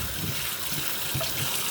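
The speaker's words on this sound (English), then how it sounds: "now I'm going to fill the sink" Warm water runs steadily from a tap into a sink as it fills, making a continuous, fairly loud rushing splash with no voices.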